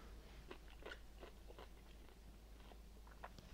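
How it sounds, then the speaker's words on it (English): Quiet, close crunching from bites into a homemade garlic dill pickle, a series of sharp crisp cracks at an irregular chewing rhythm over a low steady hum. "you can hear me crunching and swallowing"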